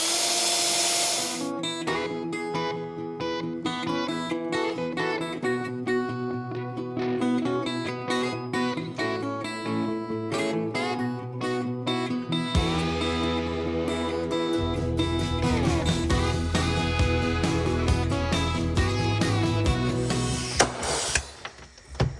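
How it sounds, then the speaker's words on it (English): Power drill boring holes for a Peterbilt 359 roof cap, a dense run of loud whirring bursts and clattering bits, the motor pitch shifting as the bit bites in, continuous and close. "All I need to do now is drill some fresh holes"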